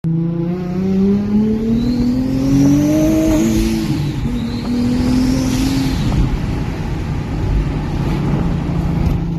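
Rear-mount turbo Nissan 370Z engine revving hard and loud, pitch climbing and falling through boosted pulls with turbo whine, continuous with no talk.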